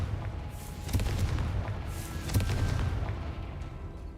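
A Confringo spell blast in the video game Hogwarts Legacy: a dense, rumbling explosive roar with a couple of sharper booming peaks, loud and steady for a few seconds.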